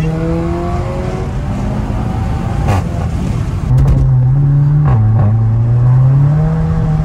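A Seat Leon Cupra 5F with a stainless steel exhaust accelerates hard with its wheels spinning, giving a loud, close engine drone that climbs in pitch, breaks at a gear change and then pulls upward again.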